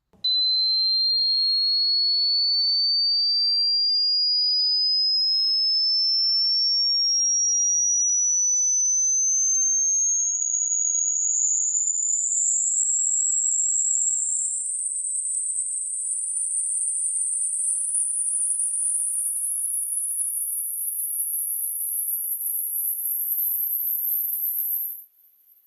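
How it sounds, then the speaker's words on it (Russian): A high-frequency hearing test tone, a pure steady whistle that rises continuously in pitch over about twenty-five seconds, sounding alone at constant loudness before cutting off at the end. "Чем ты моложе, тем более высокую частоту ты сможешь услышать."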